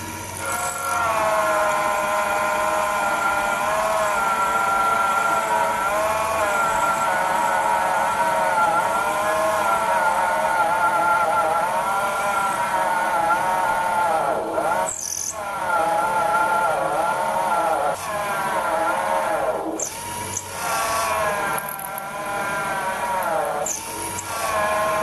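Metal lathe drilling with the bit pushed in by the tailstock, work mounted on the carriage: a steady, close whining machine drone with fluctuating tonal harmonics and a few brief sharp scraping bursts near the end.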